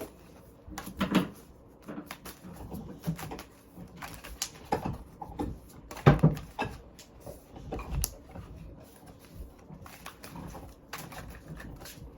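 Soft, irregular shuffling and light slapping of tarot cards, close by, in short bursts with quiet gaps between them.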